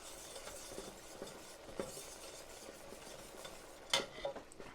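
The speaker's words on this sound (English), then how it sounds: "whisk all of that together to make sure we have no lumps" A whisk scrapes and taps steadily around a pot of clam chowder base as lumps are worked out, with soft continuous stirring and a sharper metallic clink near the end.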